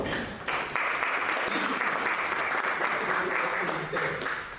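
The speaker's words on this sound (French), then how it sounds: "vous méritez encore des applaudissements" Audience applause at a university entrepreneurship talk, a continuous, even burst of clapping from a seated crowd that starts abruptly after a brief pause and carries on steadily, easing slightly near the end.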